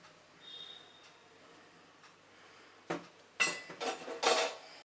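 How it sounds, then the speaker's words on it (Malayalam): Ground rice batter for idli is moved into a vessel: a quiet stretch, then a few clattering knocks and scrapes of metal utensils and pot, close and short. "ഇപ്പോൾ ഇത് നമുക്ക് പാത്രത്തിലോട്ട് മാറ്റാം."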